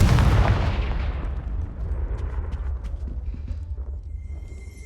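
A Confringo blasting spell goes off in Hogwarts Legacy, a loud booming blast that rolls into a long rumbling decay over several seconds, with no talk.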